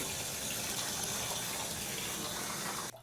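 Hot water gushes steadily from a tap into a drain, a loud, close, continuous splashing rush that cuts off abruptly near the end.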